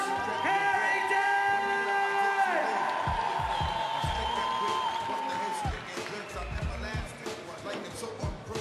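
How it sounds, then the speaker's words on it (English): Crowd cheering and applauding at a BMX park finals contest for rider Josh Harrington, a steady wash of claps and whoops with an announcer talking over it throughout. "a huge round of applause for North Carolina, USA's Josh Harrington"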